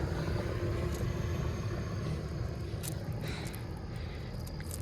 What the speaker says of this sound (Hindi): अभी गाड़ी आ रही है